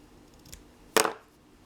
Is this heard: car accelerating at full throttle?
no